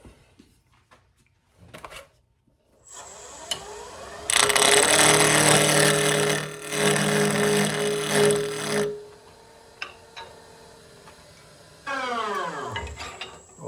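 Lathe cutting a tenon into a padauk wood blank, a loud sustained whirring and scraping burst lasting several seconds, fading, then a second shorter cutting pass near the end with quieter shop noise between.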